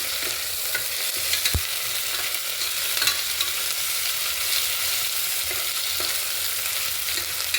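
Ginger garlic paste fries in a pan for Telangana-style mutton curry, a dense, continuous close sizzle with an occasional knock of a spoon against the pan.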